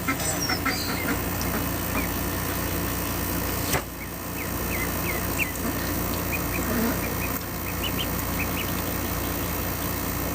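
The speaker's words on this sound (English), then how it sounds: "We're trying to name these lovely ducklings." Lovely ducklings cheeping and quacking in short, scattered high peeps, close by and fairly loud, over a constant low engine-like hum.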